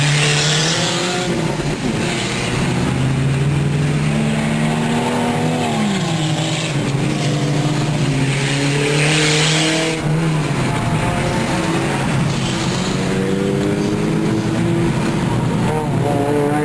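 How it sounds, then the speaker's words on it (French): Race cars roar past on the track at Autodrome St-Eustache during an endurance race, engines droning loudly and shifting pitch as they speed by, continuous and close. "On a des bolides qui volent littéralement sur la piste."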